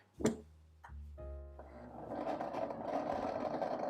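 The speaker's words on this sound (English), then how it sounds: "now we're just going to blend this until those dates are fully pulverized," A blender pulverizing dates starts with a couple of short thumps and bumps, then settles into a steady whirring grind that carries to the end, fairly quiet overall, with no voices.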